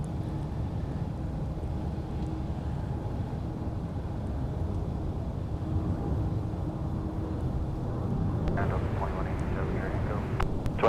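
An airplane arriving to land at Minneapolis–Saint Paul airport: a distant, steady low engine rumble that swells slightly toward the end, mixed with wind noise and faint background voices.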